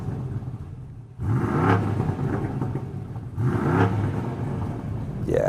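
A BMW M850i's 4.4-litre twin-turbo V8 fires up and revs in two strong surges, a deep close rumble rising and falling with a brief quieter gap between bursts.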